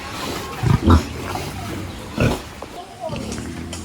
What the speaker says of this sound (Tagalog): Yan po ay yung mga baboy po namin ni Janjan.